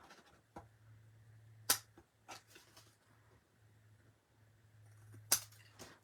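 Heavy-duty scissors gummed with adhesive trim paper in a few sharp, quiet snips spaced a couple of seconds apart, over a faint low hum and no talking.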